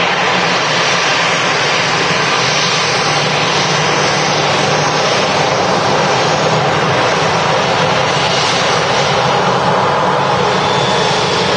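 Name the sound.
easyJet airliner jet engines at Manchester Airport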